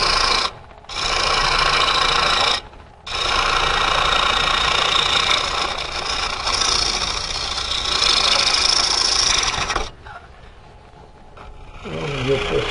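A lathe tool cuts a tenon on a green wood bowl blank, giving a continuous close rasping shear over the machine's steady hum, broken by two brief pauses and ending as the cut stops.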